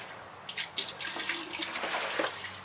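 Brewing equipment is rinsed under steady running tap water on a stout brew day, with close, continuous splashing and irregular gushes as the water hits the gear.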